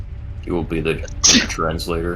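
One sharp sneeze bursts out in the middle of conversational speech, brief and close, with people talking around it.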